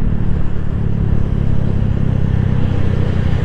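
Traffic jam of motorcycles and cars in Limbangan, Indonesia, a loud continuous engine rumble and whir with steady low drone throughout, close by.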